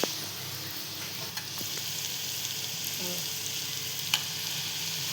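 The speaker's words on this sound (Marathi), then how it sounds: "ह्यांना आता आपण फ्राय करून घेणार आहोत." Potato fingers frying in hot oil on a medium gas flame, a steady close sizzle with occasional crackles and pops throughout, no voices.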